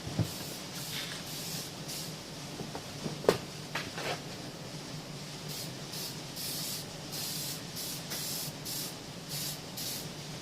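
A door is spray-painted black indoors, the aerosol can hissing in repeated bursts, some short and some sustained, with a couple of sharp knocks partway through and no one talking.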